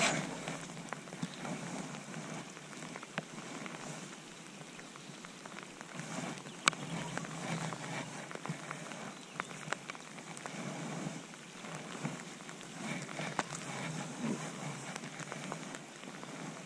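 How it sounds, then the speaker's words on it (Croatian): Rain falls on a lakeside fishing spot in a steady soft patter, faint and even, with scattered sharper drop ticks and no speech. "A kiša pada, ajme."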